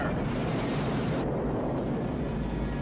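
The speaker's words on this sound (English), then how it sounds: "we saw the Scorpion attack helicopter" A Scorpion attack helicopter roars overhead in a loud, steady wash of rotor and engine noise with no pauses.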